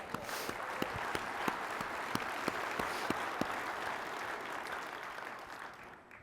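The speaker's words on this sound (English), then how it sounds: "let's give Tony a round of applause" Audience applause at a conference gathering, a broad wash of clapping from many hands with occasional sharper individual claps, steady and fairly distant, fading near the end.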